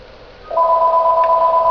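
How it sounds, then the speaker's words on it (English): A telephone rings out nearby on a bench where a Dell Latitude C series laptop is being worked on, a steady two-tone electronic ring starting half a second in and holding loud and unbroken to the end. "Sorry about that phone."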